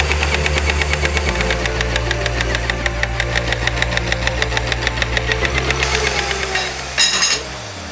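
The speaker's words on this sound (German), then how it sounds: "Unsere PS 1000 ist schon über 30 Jahre alt und macht immer noch einen perfekten Schnitt." An old Trumpf PS 1000 nibbler, over 30 years old, cuts through sheet metal with a loud, fast, steady chatter of punching strokes over a low motor drone, continuing throughout before a brief louder burst near the end.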